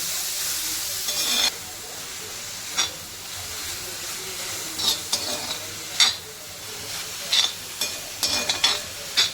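Onions fry in oil on a thick, heavy cast-iron tawa, a steady close sizzling hiss broken by repeated scraping strokes of a spatula at an uneven rhythm.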